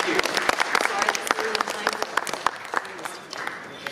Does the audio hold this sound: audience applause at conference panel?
yes